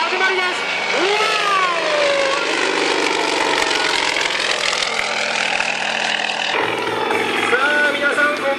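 An aerobatic aircraft takes off at an air show, its engine droning loudly with rising and falling pitch sweeps as it climbs, heard continuously at moderate distance.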